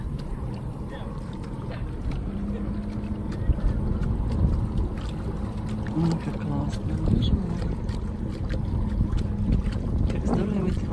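A small motorboat moves across water with a steady low engine rumble and water wash, heavy wind buffeting the microphone, and a voice speaking briefly over it.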